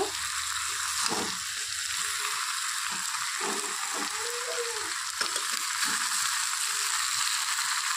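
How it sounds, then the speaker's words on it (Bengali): Banana flower curry with fish head, potato and rice being stirred in a pan, a continuous bright sizzle with soft rhythmic scraping of the spoon throughout. "একটু ভালো করে নেড়ে চেড়ে দিচ্ছি।"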